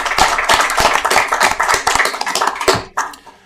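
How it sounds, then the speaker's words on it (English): Applause at a Town of Taber council meeting for the financial team, a small group clapping in quick sharp irregular claps for about three seconds, then tapering off to a few scattered claps. "I'd like to give them a round of applause, our financial team"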